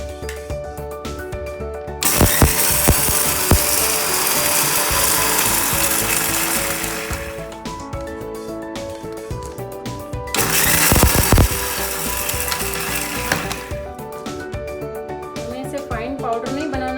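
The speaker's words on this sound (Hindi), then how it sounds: "अब मैं इसे जार में ले लेती हूँ, फिर हम इसे पीसेंगे।" A kitchen mixer grinder coarsely grinds roasted spices for mango pickle in two loud whirring bursts of a few seconds each, separated by a pause, with background music continuing throughout.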